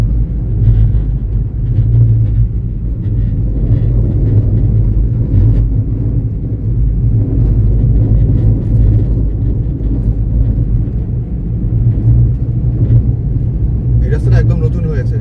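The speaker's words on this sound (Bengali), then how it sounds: "সুন্দর ফাঁকা রাস্তা, আমরা খুব ভালোভাবে ড্রাইভ করে যাচ্ছি।" Car cruising along an empty, newly built village road on a cloudy day en route to Tajpur, giving a steady low engine and road rumble throughout, with voices talking over it.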